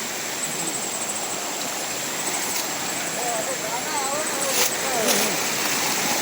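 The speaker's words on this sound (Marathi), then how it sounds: "आता आपल्या छोट्या धबधब्या खाली आलोय" A steady rush of water from a small waterfall fills the scene, loud and continuous, with faint voices and a few brief knocks over it.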